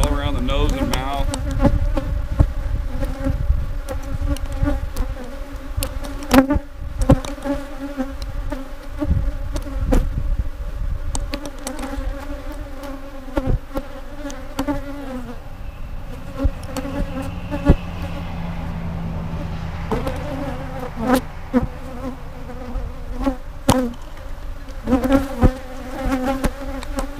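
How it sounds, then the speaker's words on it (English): An aggressive Africanized honey bee colony buzzes loudly and continuously, a dense steady drone of many bees with individual insects flying close past the microphone. "This is my only really aggressive colony."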